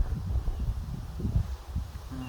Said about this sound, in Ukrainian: Вітер дує, холодний.